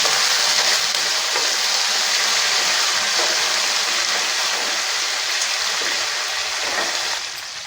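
Mustard seeds, cumin and curry leaves in hot oil for tempering give a loud, continuous sizzle and crackle that holds steady, then eases off slightly at the end.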